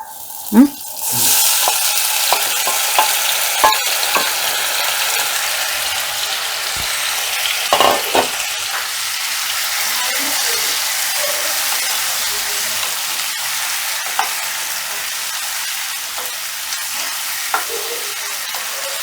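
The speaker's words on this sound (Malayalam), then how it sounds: "നമ്മുടെ വെളിച്ചെണ്ണ ചൂടായി വന്നിട്ടുണ്ട് അപ്പോൾ ഞാൻ ഈ ഉരുളക്കിഴങ്ങ് ഇട്ട് കൊടുക്കുകയാണ് കേട്ടോ" Potatoes fry in hot coconut oil in a pan with a loud, steady sizzle. Occasional clinks and scrapes from stirring rise over it, and a brief burst comes as they go in.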